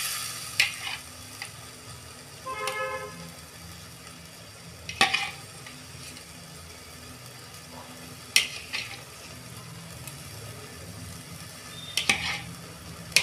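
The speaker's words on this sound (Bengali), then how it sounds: "দেখুন বন্ধুরা, মশলাটা ফুটে গেছে। আমি এবার পনিরগুলো ছেঁকে দিয়ে দিচ্ছি।" Paneer goes into boiling masala in a pan on a gas stove, a steady low sizzle with several sharp clinks and scrapes from stirring spaced through the stretch.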